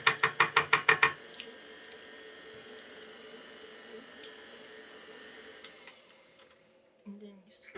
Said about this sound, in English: we're gonna continue to whisk that together.